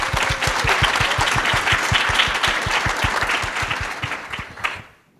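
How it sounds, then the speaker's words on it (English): A seated audience at a panel discussion gives sustained applause, dense overlapping clapping over a rhythmic low thump that thins out and fades to silence near the end. "So please give her a round of applause again."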